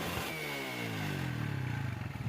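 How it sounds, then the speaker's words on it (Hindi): A China CT100 United 100cc motorcycle engine runs close by, its droning, harmonic exhaust note dipping and settling into a steady, slightly pulsing idle with no one talking. "ये चाइना CT100 यूनाइटेड मोटरसाइकिल है।"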